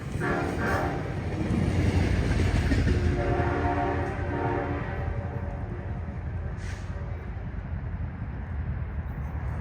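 A Trinity Railway Express eastbound repositioning move rolls along a station platform on Track 1, a loud continuous rumble of wheels and engine with a horn tone blending in, passing close by.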